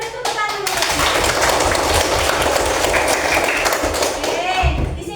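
A classroom of children clapping their hands together, a dense burst of close applause lasting several seconds with a few voices mixed in.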